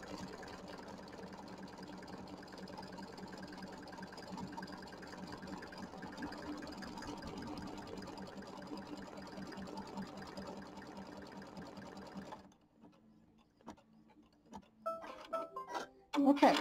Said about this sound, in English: So this is going to be the letter L. I'm going to stitch that out.